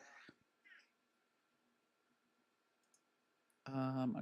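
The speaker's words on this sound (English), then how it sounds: "Can you hear him meowing?" A cat gives one short meow near the end, after a quiet stretch with a few faint clicks and soft rustles, recorded indoors.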